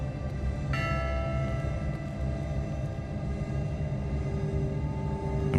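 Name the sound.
bell ringing with its clapper in video game WILL: Follow the Light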